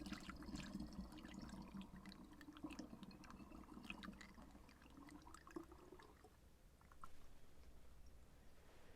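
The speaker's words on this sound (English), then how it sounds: "Glug, glug, glug, glug, glug." Liquid herbal tincture being poured and pressed, with wet glugging, dripping and squelching sounds close up, fairly quiet, easing off near the end.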